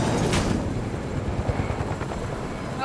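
The steady, throbbing drone of a video game helicopter's rotor fills the scene, loud and continuous with a rough, chopping rumble.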